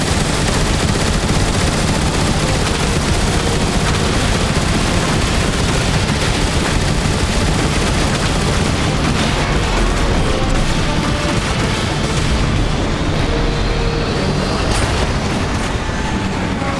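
Sustained, dense gunfire rattles nonstop against a Decepticon warship in the Transformers: War for Cybertron video game, loud and relentless with rumbling mechanical noise underneath.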